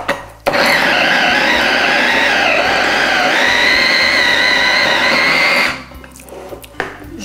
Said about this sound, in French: Je vais mettre l'huile d'olive de Provence, naturellement, tant qu'à faire. Alors, je vais mixer.